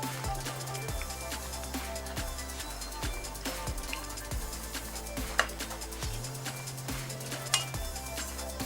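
Ribbon pakoda dough fries in hot oil, giving a continuous close sizzle with occasional sharper pops. Background music plays over it.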